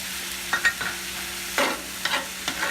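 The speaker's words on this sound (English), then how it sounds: "I'm gonna fry this down good before I add my ham to it and my ground meat" Onions and garlic frying in a pan, faint sizzling broken by several short stirring scrapes, close by with no talking.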